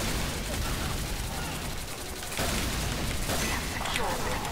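Weapon fire in Team Fortress 2 blowing up enemies and mini sentries, a steady roar of loud blasts and gunfire across the whole stretch with voices talking over it.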